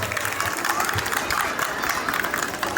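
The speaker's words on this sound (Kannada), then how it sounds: "ಜೋರಾದ ಚಪ್ಪಾಳೆ ಬರಲಿ ಪೋಷಕರೇ" Parents and audience clapping at a school Independence Day celebration for a chief guest: steady, dense applause from a crowd, fairly close and sustained throughout.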